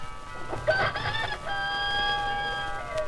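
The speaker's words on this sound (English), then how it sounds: "The rooster began to crow." A rooster crows once, a loud, drawn-out call with a rising start and a long sustained tail, close by and alone.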